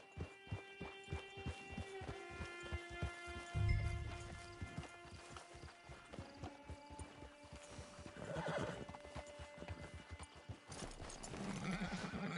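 Horse riding in the video game Red Dead Redemption 2: steady clip-clop hoofbeats carry a horse along, with a loud whinny near the middle and ambient game music and tones underneath, no talking.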